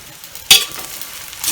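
Pad thai noodles dropped into a hot pan: one sudden loud sizzling burst, then a lower steady frying hiss that rises again at the end, with no talk.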